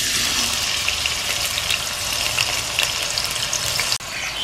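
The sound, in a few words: chopped onions frying in oil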